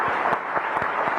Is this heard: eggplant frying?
no